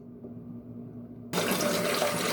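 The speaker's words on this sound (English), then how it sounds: "let the toothbrush soak in the sink in hot water for a few minutes" Hot water from a tap gushes into a bathroom sink, beginning abruptly partway through after a quiet low hum and continuing as a steady, close, full splashing rush.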